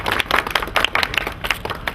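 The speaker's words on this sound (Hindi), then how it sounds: "तालियों से स्वागत किया जाए" At a Rajasthani film launch ceremony, a small crowd claps at a brisk, uneven pace, a short burst of close claps.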